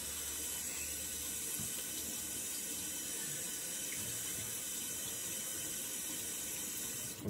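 Steady rush of water running from a tap to wet a shaving brush, a constant close splashing flow with no speech.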